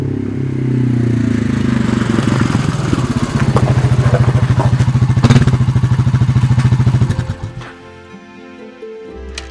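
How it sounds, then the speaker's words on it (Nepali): A motorcycle engine runs steadily with a loud, rapid, rattling idle pulse, then sputters and cuts out near the end, leaving quiet. "यो बाइक पनि के भयो के भयो?"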